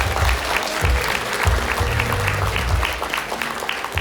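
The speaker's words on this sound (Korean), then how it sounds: "제주특별자치도의회 김경학 의장님을 큰 박수로 맞이해 주시기 바랍니다" Audience applause welcoming Jeju Special Self-Governing Provincial Council chairman Kim Kyung-hak at a Jeju Forum council session, sustained crowd clapping throughout, with some low crowd noise beneath.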